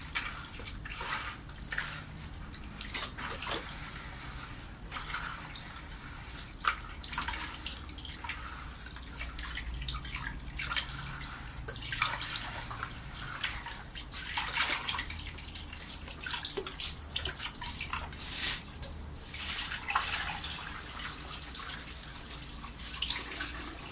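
Sand is washed in water before planting bulbs, with continuous sloshing, splashing and dripping close by and no talk.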